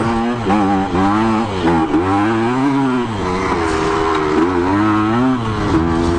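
A Kawasaki KE100 dirt bike climbs an off-road hill, its two-stroke engine loud and close, revving hard with rising and falling pitch throughout.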